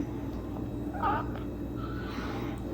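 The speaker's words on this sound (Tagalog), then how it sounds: "Ang aking pusa. Nagpapalambing." A pet cat meows softly and affectionately in a couple of short, faint calls over a steady low indoor hum.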